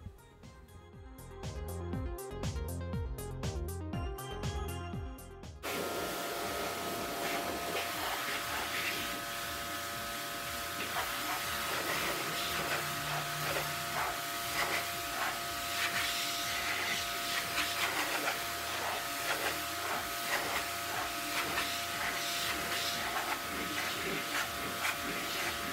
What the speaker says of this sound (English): just the Torque 10FX, a medium cut compound, one or two passes over the area